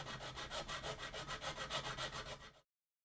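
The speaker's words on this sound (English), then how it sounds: "now I can get a file in there and neaten up those edges" A hand file rasps back and forth around the edges of a hole cut in a plastic faceplate for a Hitachi CD player, a steady run of rhythmic strokes close up that stops abruptly.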